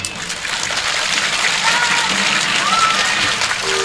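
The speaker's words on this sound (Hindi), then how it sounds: "एक बार सब अपने लिए जोरदार तालियां बजाओ" Loud, dense applause from a crowd at a Shrimad Bhagavat katha religious storytelling gathering in Samastipur, Bihar, a steady wash of clapping lasting several seconds with no pauses.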